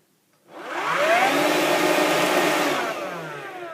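A Bosch Athlet cordless lightweight vacuum cleaner switches on and spins up into a rising whir, settling into a loud, steady close-up hum for a few seconds with no voices.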